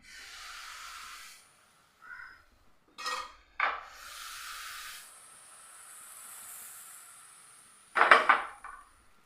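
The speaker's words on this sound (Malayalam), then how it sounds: "ഇനി നമുക്കിതിലേക്ക് ഒരു തവി മാവ് ഒഴിച്ചിട്ട് ജസ്റ്റ് ഒന്ന് ചുറ്റിച്ചെടുക്കുക" A ladle of batter is poured into an appam pan and swirled, giving soft hissing sizzles, brief metallic clinks and scrapes, and a sharper clatter near the end, all quiet and close.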